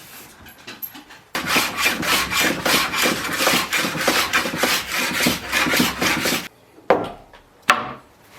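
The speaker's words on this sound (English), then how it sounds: "I'll round those edges over, give it a bit of a sand" A wooden gate is sanded along its edges, giving steady, loud rasping strokes in a continuous rhythm for several seconds, then stopping, followed by a few brief scrapes and knocks.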